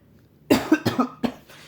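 A single person's cough, several sharp close bursts in quick succession standing alone in an otherwise quiet room.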